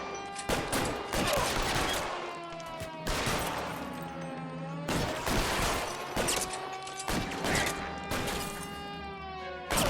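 Gunfire in the 1940s Los Angeles crime game L.A. Noire, loud rapid bursts of close shots with sharp cracks and ringing echoes, repeating in clusters over a continuous tonal music and ambience bed.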